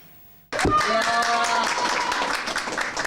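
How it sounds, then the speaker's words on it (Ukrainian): Relatives clap at a wedding held in a hospital intensive care unit in Dnipro. After a brief quiet start the clapping begins abruptly and continues close by, with voices and music-like tones underneath. "Оплески від рідних та щасливі емоції"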